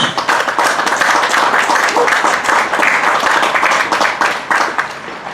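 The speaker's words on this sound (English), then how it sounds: "So let's give that a round of applause." Outdoor crowd at a Memorial Day ceremony applauding the honoring of veterans with Purple Hearts: dense, sustained clapping from many hands, loud and steady throughout.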